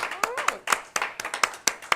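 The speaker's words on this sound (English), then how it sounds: "Let's a round of applause." Hands clap in a quick, steady rhythm at a Nelson Honda dealership event in El Monte, about a dozen sharp claps, while a voice briefly sounds underneath.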